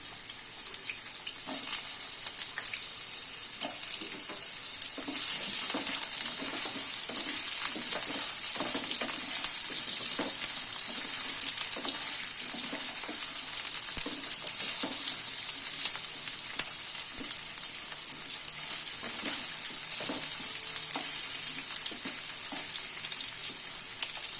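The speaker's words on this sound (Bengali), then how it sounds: "এবার আলুতে একটু তেল দিয়ে দিই, দিয়ে আলুগুলো একটু ভেজে নিই।" Continuous moderate frying sizzle of potatoes and carrots in oil, with soft scraping and stirring sounds recurring throughout, no talking.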